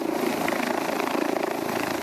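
A helicopter lifting a weather station up to a ridge 2142 metres above sea level sends out steady, close rotor chop that fills the short stretch without pause.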